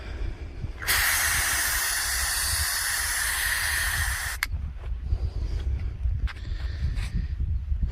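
Pepper spray canister discharging in one continuous loud, close hiss lasting a few seconds, cutting off sharply, followed by faint rustling and light handling noises.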